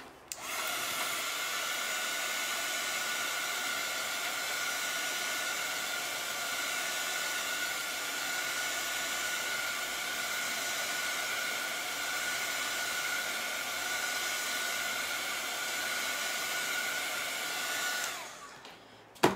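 A hair dryer blows to dry chalk paste on a surface, its steady whining roar running loud and close without a break for nearly twenty seconds before clicking off at the end.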